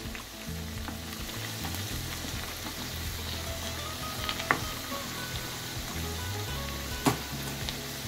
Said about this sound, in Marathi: असा लालसर कलर येईपर्यंत तळायच्या आहेत